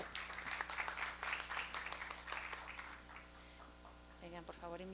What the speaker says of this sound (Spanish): Fuertes los aplausos también para Esteban.